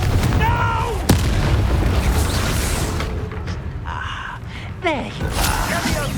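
Confringo fire spells burst in Hogwarts Legacy combat, a series of heavy booms and blasts over a rumbling battle bed, with voices shouting and calling out throughout.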